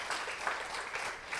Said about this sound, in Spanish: ¿Le podemos dar un aplauso, hermanos?